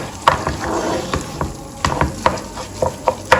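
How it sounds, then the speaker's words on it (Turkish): Rice sprinkled with a little salt is dry-toasted in a pan, with a spoon scraping and stirring it in irregular clicks and rustles under a soft, steady sizzle, close and fairly quiet, with no talk. "ben de hemen böyle pirinci kavuruyorum"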